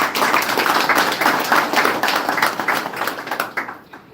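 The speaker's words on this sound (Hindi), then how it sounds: "तो सबसे पहले चेतन सर के लिए भी जोरदार ताली" Audience at a live awareness program on cow-dung fertilizer products in India giving loud applause, a thick, steady crowd clapping close by that slowly thins and fades toward the end.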